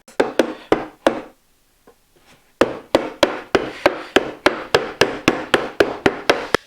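A loose wooden blind sliding dovetail joint is tapped together during reassembly, giving a quick series of sharp wooden knocks. A short quiet gap follows, then a long, even run of close, loud taps.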